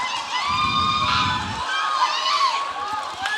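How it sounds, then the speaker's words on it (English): A crowd at a TFP kickboxing fight shouts and cheers loudly, with high excited voices and whistles layered over a busy arena din that stays strong throughout. "Crowd very much involved in this fight."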